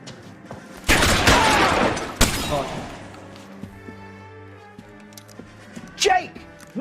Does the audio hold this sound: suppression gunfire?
yes